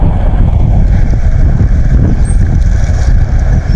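Strong wind buffets the microphone in a continuous low roar during a bike ride, steady and loud throughout with no pauses.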